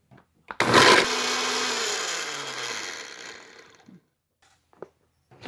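A blender mashes apple pieces and core for sauerkraut, starting with a loud burst, then whirring steadily and fading in pitch as it winds down, followed by a few faint clicks and knocks.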